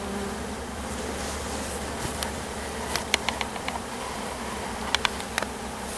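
Honeybee nurse bees hum in a low, steady drone at an opened hive while a spring split is made, with a few faint clicks and taps of frame handling scattered over the buzzing.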